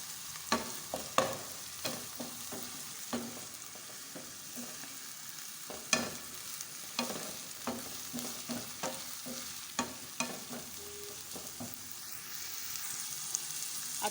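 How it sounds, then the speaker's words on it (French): Onions and lardons sizzle in a frying pan for a carbonara sauce, a steady hiss broken by repeated sharp scraping and stirring knocks, close and fairly quiet, with no voices. "Les oignons sont au feu. Donc je vais rajouter les lardons."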